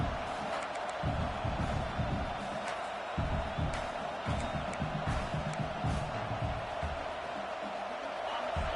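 A home crowd roars steadily at a football game, a dense, continuous wash of cheering and shouts with occasional whoops rising out of it, loud and sustained throughout.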